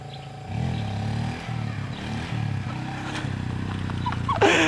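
A Yamaha Vixion motorcycle revs in repeated bursts during freestyle riding practice, each rise in engine pitch followed by a drop back, fairly close, with rattling clatter and a sharp clank at the end.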